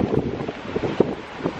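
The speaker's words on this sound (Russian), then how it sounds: "ну и ветер." Strong gusty wind buffets an outdoor microphone during a hurricane-force day, a steady rumbling roar with irregular thumps and bursts, loud and close, with no talking.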